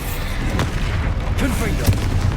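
Bombarda spell blasts in Hogwarts Legacy, a dense, continuous booming rumble with a couple of sharper thuds near the end, loud and steady throughout with no clear gaps.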